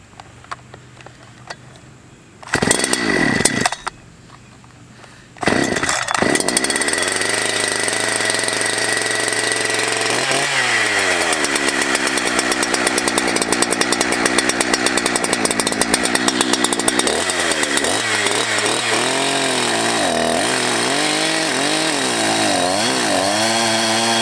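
Holzfforma G372XP chainsaw starting with a short burst, then revving hard and cutting through wood, a loud continuous snarl with the pitch dipping and rising as the chain bites, close by for over fifteen seconds.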